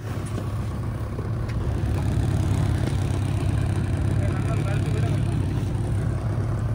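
A boat engine being tried, running in a steady, rumbling idle drone that holds at an even level throughout.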